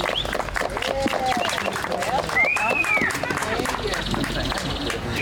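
A crowd at an outdoor Memorial Day gathering applauds the town's mayor, steady clapping and cheering running for several seconds with shouts and chatter mixed in.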